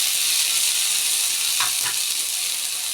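Potatoes dropping into hot oil in a pan still greasy from corned beef and garlic, a steady loud frying sizzle with two brief sharper spatters as the pieces land.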